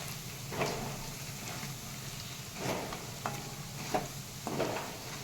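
Masala for chicken pickle frying in a pan gives a soft, steady sizzle, broken by several scraping stirs of a spoon at irregular intervals, with no talking.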